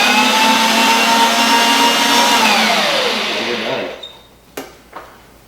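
An electric hand mixer whirs steadily as it blends shredded cheese with baking mix for sausage balls. The motor runs loud and continuous, its pitch sagging toward the end before it shuts off, then a couple of sharp knocks follow.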